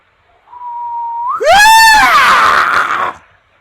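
A voice imitates a terrified yelp: a thin rising whistle-like tone that breaks into a loud, strained scream lasting about two seconds, then cuts off.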